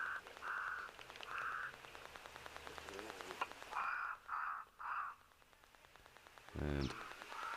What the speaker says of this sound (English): The Cape Crow is also rather loud.